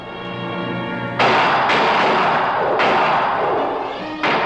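Gunshots ring out in a classic Dracula horror film: a few loud, booming shots with long, noisy tails break over a sustained droning tone.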